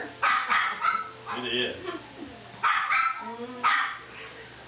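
Several dogs barking nearby in short bursts, sharp woofs and yips coming in clusters with brief pauses, while a person speaks briefly over the barking.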